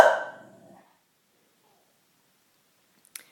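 A dog gives a single sharp bark indoors in reaction to noise outside. The bark is close, then fades quickly into near silence, and a small click follows at the end.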